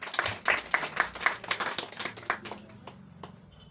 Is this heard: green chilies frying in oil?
no